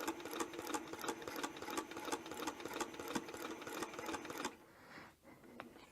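A domestic sewing machine stitches a quilted table topper in a fast, loud, steady rattling run that stops abruptly near the end, leaving a quieter room with a few soft handling sounds.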